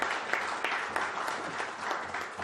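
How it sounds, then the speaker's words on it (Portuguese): An audience at a Brazilian Senate session applauds, a steady, dense wash of clapping at moderate volume with faint pulsing swells and no speech above it. "As palmas estão liberadas agora."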